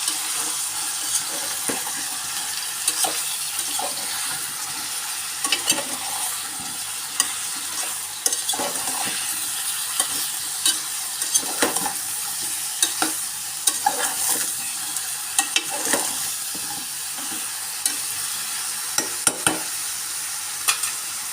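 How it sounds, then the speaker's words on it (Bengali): Eggplant and dried loitta fish with chili and turmeric powders and salt being stir-fried in a pan, with steady sizzling and frying noise and repeated scraping stirs throughout, close and alone. "খুব ভালো করে আমি কষা নেব"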